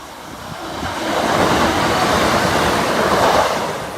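A train rumbles past the Oak Farm level crossing in a loud, steady roar with a rattling, clattering wash that swells and holds for several seconds.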